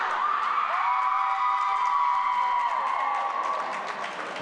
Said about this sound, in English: you can hear the crowd starting to get into things a bit more